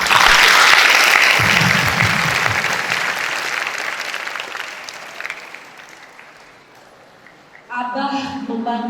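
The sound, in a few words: audience applause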